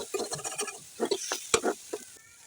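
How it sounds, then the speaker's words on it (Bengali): Fish pieces being stirred with spices in a pan for fish fingers, soft scraping and light sizzling in short uneven strokes, close and fairly quiet. "আবার আমি মাছের সঙ্গে মশলাগুলোকে ভালোভাবে করে নেড়েচেড়ে মিশিয়ে নিব"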